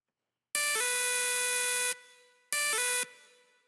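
Bright synth lead preset plays two sustained held notes, the first long and the second shorter, each with a quick pitch blip at the attack and a reverb tail after release, loud and alone.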